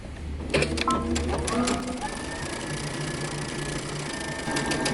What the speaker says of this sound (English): we're going to stitch using 5/8 of an inch seam allowance